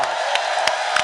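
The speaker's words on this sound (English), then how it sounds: "So let's give them a round of applause." An audience at a 2013 online marketing product launch event applauds and cheers in a steady wash of clapping, with a few sharp louder claps or whoops standing out.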